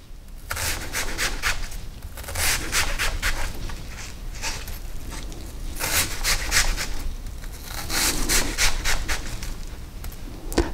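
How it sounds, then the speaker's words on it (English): A knife chops an onion on a cutting board in a close, steady series of crisp cuts. Each stroke lands as a short crunch or tap on the board in an even rhythm. "So I'm cutting down like this, at about 1/4 inch apart."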